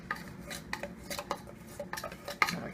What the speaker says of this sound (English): And then I'm going to use a spoon because I want to get everything out